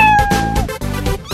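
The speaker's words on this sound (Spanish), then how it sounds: "Aquí está Dixie la gata con lindos gatitos." A cartoon cat gives a couple of loud, close meows in quick succession, strained and drawn out.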